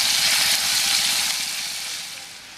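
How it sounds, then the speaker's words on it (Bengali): Chicken pieces frying on a high gas flame for restaurant-style mixed chicken noodles, giving a loud, steady broadband sizzle that fades slightly toward the end, with no talk. "গ্যাস হাই ফ্লেমে রেখে এগুলিকে আমি নাড়াচাড়া করে ভেজে নেব"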